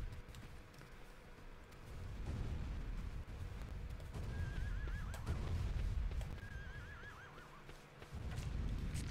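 A horse in Shadow of the Colossus gives two warbling whinnies amid rumbling, thudding game action, with hoof and impact noises underneath; the calls sound moderately distant and fairly faint.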